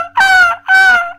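A human voice imitates a seagull call with two loud, nasal, sustained squawks in quick succession, close to the listener.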